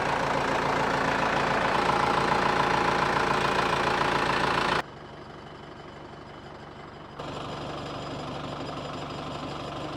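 A farm tractor engine idles with a steady rough rumble and knocking chug, loud at first, then abruptly quieter for a couple of seconds before settling back to a moderate continuous idle.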